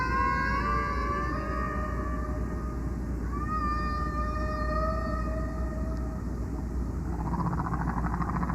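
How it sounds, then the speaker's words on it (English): Recorded whale song: long tonal moans and gliding, rising calls that layer and overlap, held over a steady underwater rumble, continuous and fairly loud with no voices. "I'm going to give you some whale recordings you can play."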